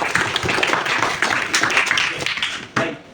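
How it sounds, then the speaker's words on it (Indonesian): A class applauds a student group after its presentation, a loose, uneven round of clapping at moderate volume with a brief louder burst near the end. "Kita berikan tepuk tangan kepada"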